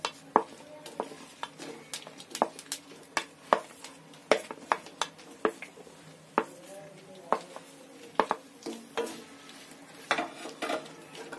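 Red chillies stirred as they fry in a pan for tomato and peanut chutney: a steady soft sizzle under repeated sharp scrapes and clinks of a spoon against the pan, close and fairly loud.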